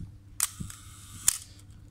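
Two crisp mechanical clicks from a single-lens reflex camera shutter firing at different speeds, the first at about 0.4 s and the second at about 1.3 s, each sharp and close, with a faint low hum between them.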